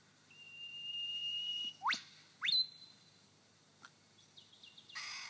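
A lyrebird in a Victorian forest mimics a whip bird: a long, thin, steady whistle followed by two sharp upward whip-crack sweeps, then a few faint chips and a brief hiss, all clear with no talking.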